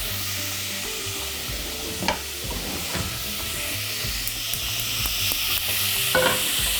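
Meat pieces fry in hot oil in a pan, a continuous loud sizzle broken by several scraping stirs of a utensil, no voices.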